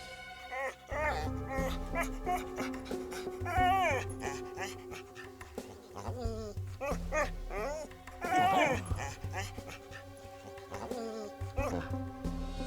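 A dog wounded by a gunshot whimpers and whines in repeated rising cries with some panting, set under dramatic music in a crime television drama scene.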